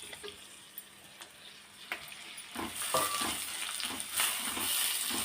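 Bitter gourd sizzles and fries in a pan, a steady crackling hiss that builds louder after a quieter start, with faint stirring scrapes.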